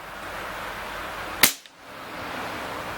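A Crosman M4-177 multi-pump .177 pellet air rifle fires a single shot: one sharp, close crack with a brief tail, set against a steady low background hiss.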